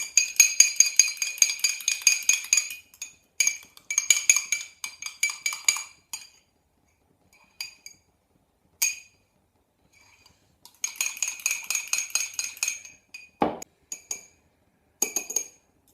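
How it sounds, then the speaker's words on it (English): Eggs being whisked with Lawry's seasoning in a bowl, a fork or utensil clinking rapidly against the sides in several quick bursts separated by pauses, close and fairly loud with no talking. "we're going to go ahead and mix that up"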